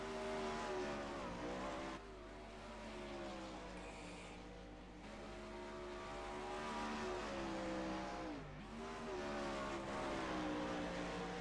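A 410 sprint car, number 92, races around a dirt track with its engine droning and shifting pitch as it passes through turns, a steady mid-distance roar with a few brief dips.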